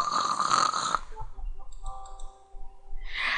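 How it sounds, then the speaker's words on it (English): A cartoonish snore from the game Quest for Glory, with a rumbling inhale and a wheezy, whistling exhale, with a brief click partway through. "Nobody snores like that."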